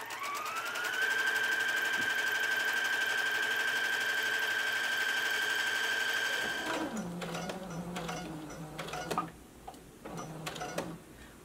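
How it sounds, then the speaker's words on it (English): A sewing machine runs a gathering stitch along a dress ruffle tier, a steady high mechanical whine for about six seconds that then stops, followed by a few clicks and handling sounds of the fabric and machine. "So just start sewing and continue sewing until you get back to your starting point."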